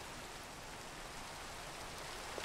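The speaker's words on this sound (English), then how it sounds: "It's raining." Rain falling in a survival video game, a soft, steady wash of fine drops with no break, faint and even throughout.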